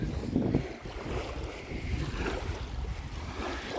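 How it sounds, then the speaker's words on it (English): Steady wind blows across a Wisconsin lakeshore on a hot, breezy day, a broad rushing noise with microphone buffeting and gentle gusts, no voices. "This is all the wind. It's pretty nice, decent breeze."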